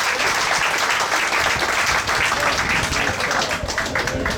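A crowd at a book fair literary evening bursts into steady, loud applause, a thick continuous wash of many hands clapping throughout with no pauses.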